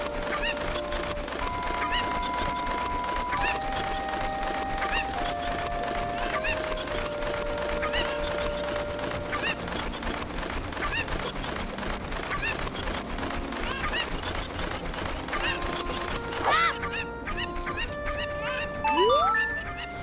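Cucco chickens from The Legend of Zelda: Ocarina of Time squawk and cluck amid continuous game music, with a couple of sharper, louder calls near the end.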